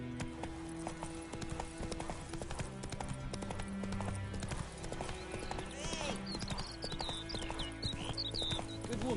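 A horse gallops in The Witcher 3: Wild Hunt with a steady, rapid clip-clop of hooves throughout, while music plays and a voice speaks over it, with brief whinnying calls later on.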